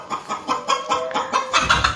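Laying hens at a nest box cluck in a quick, uneven series of short calls, close and fairly loud, with no voices.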